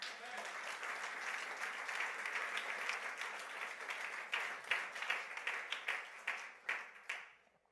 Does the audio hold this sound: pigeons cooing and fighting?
no